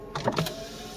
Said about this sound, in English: Let me open the window on that side just in case.